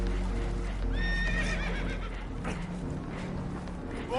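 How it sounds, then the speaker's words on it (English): Spooked horses in Red Dead Redemption 2 whinny and neigh several times over a steady low rumble of boat and water noise, with hooves clattering throughout, loud and close. "Horses are spooked"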